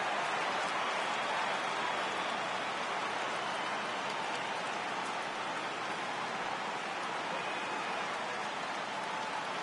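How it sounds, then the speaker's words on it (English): Steady rain falling on a baseball field in MLB The Show, a constant soft hiss of drops on the ground, faint and even throughout with no talk. "right now this field is getting sloppy wet, Matt, and I don't know how much more rain this field can take"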